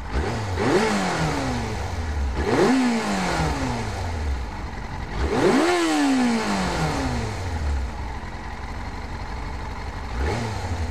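A 600cc motorcycle engine running at idle, with a steady, close mechanical drone broken by several throttle blips. Each blip rises and falls in revs at irregular intervals.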